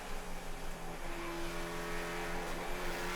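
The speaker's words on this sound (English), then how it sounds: "the Spec Miata drag race on the front straight" Spec Miata race cars in a drag race down the front straight at Summit Point on Labor Day 2015, with a loud, steady engine drone at high revs filling the whole stretch, heard from inside the car.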